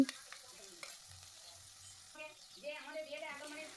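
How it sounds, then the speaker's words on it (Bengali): A tomato with spice paste frying slowly over a low flame in a pan, heard as a faint, soft sizzle broken by a few scraping stirs and light clinks, with no talking. "আস্তে আস্তে ভাজবে দেখবে একবারই টমেটোটা গলে যাবে"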